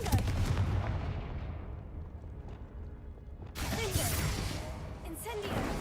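A Confringo blasting spell fired in Hogwarts Legacy lets out a loud, booming burst that rumbles and fades, then a second explosive blast strikes partway through, both close and forceful.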